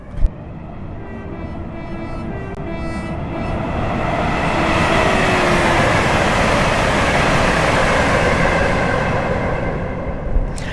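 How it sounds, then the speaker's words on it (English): A Class 805 Evero train in Train Sim World 6 passes loudly, a broad roar swelling over several seconds and fading, with rail rumble and brief clicks at the start and end. "It is honestly quite unfortunate that the train is so loud"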